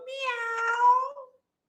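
A single cat meow, clear and close, rising and then falling away over about a second before silence.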